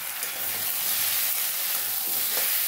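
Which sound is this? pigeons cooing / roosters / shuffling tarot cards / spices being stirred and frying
spices being stirred and frying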